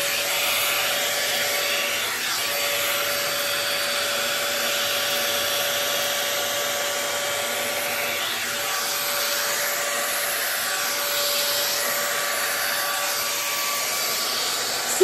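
ALDI hot air brush with a smoothing attachment blowing as it dries hair, a loud, steady close-up whoosh with a constant motor whine holding throughout, no speech.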